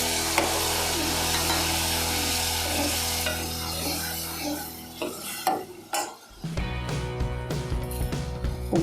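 Boiled toor dal fries in a pan with a continuous sizzle and repeated scraping stirs of a utensil. The noise dips briefly partway through, then resumes with clattering stirs.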